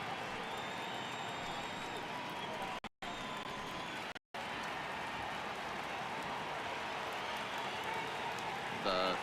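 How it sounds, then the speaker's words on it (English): A restless home crowd murmurs in the baseball video game MLB The Show 18, a steady, fairly quiet stadium wash beneath ongoing commentary. "the home crowd seems a little restless"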